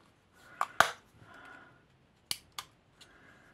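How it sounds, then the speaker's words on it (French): A single hole punch pressing through paper for craft packaging, with a couple of sharp close clicks and snaps separated by quiet pauses. "Et on vient avec notre perforatrice à trou simple en fait."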